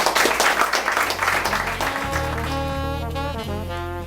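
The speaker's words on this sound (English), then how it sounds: "Please give them a round of applause." A live audience claps for panelists after a discussion, a brief burst of dense applause that fades within a couple of seconds as a bright, sustained musical outro takes over.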